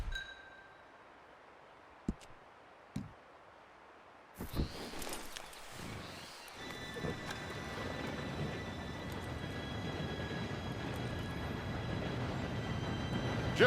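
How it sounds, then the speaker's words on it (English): A train approaches in Red Dead Redemption 2. It starts as near silence with a few faint clicks, then a low rumble builds and swells steadily toward the end. "Train should be here any minute now."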